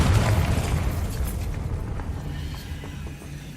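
Confringo fire spell exploding in the video game Hogwarts Legacy, a loud booming blast at the start that rumbles and fades over a few seconds, with no talk.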